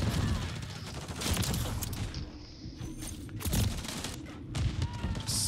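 Gunfire in Call of Duty: Modern Warfare 3 multiplayer, with bursts of rapid shots and thuds clustered around the middle and end of the clip, layered over busy game noise.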